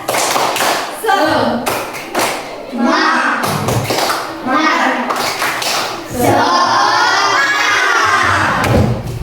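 A schoolchildren's class claps the rhythmic 'tepuk semangat' spirit clap together, with sharp, fairly loud patterned claps and taps mixed with the children's chanting voices throughout.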